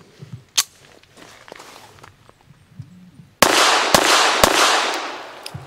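A Llama Micromax .380 1911 pistol firing Blazer 95 grain aluminum-cased ammunition: a sharp crack, then after a pause two more close, loud shots over a rising background noise.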